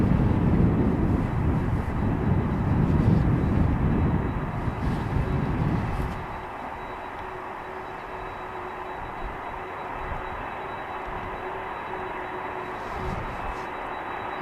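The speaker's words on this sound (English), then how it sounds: "737 from Transavia to Innsbruck in Austria is coming behind it" A Transavia Boeing 737 jet departs runway 36L at Amsterdam Schiphol Airport, heard as a loud low engine roar that drops off sharply after about six seconds to a fainter, steady distant whine and rumble.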